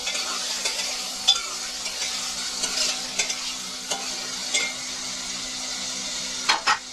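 Steady sizzling of chicken frying in a pan, with occasional scraping clicks of a spoon stirring, close and fairly quiet.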